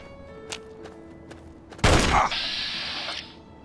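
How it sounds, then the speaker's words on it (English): Gunfire in Fallout 3 near the Dickerson Tabernacle Chapel: a few faint, sharp distant shots, then one loud close blast followed by a ringing, sustained tail that fades out. "Somebody's shooting again."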